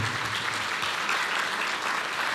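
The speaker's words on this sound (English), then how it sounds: "Please, if we can give a round of applause to our platinum sponsors." Sustained round of applause from a civic audience for platinum sponsors at a 2020 State of the City event in Weslaco, dense and steady clapping that fills the whole stretch without pause.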